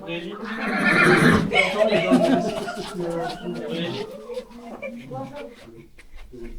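A horse whinnies loudly and close by, a long shrill neigh followed by softer snorting, with people chattering around it.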